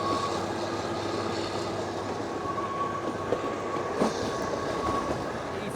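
Shivalik Deluxe train running on the Kalka–Shimla route, a steady close rumble of wheels and carriage noise with faint rail clicks throughout, no voices.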